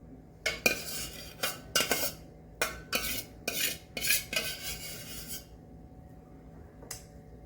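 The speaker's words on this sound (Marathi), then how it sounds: "आता मी हा राईस सगळा काढून घेते एका चाळणीमध्ये" A metal spoon repeatedly scrapes and clinks as cooked rice for tawa pulao is moved from a pan into a sieve, a series of short, quiet scraping bursts with gaps, ending in a single faint scrape.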